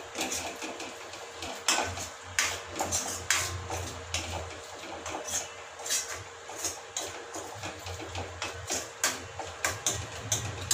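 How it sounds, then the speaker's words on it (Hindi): Tomato ketchup being stirred into veg Manchurian in a pan, with scattered clinks and scrapes of the spoon against the pan over a low steady hum from the cooking. "टोमेटो केचप भी अच्छे से मिक्स करेंगे।"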